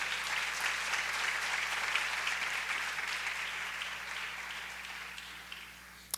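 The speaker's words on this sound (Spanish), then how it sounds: "Aplaude al Rey de Gloria." A church congregation applauding in praise, steady dense clapping that fades gradually, distant and fairly faint with a low hum beneath.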